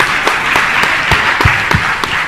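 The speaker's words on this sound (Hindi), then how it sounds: "अब बजा ताली" A religious discourse audience claps in response to a call from the speaker, a loud, sharp burst with distinct beats standing out over a steady patter of hands.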